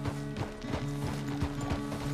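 Horse hooves clip-clop steadily in the Red Dead Redemption 2 video game, a continuous rhythmic trot of moderate loudness over a sustained low hum, with no talking.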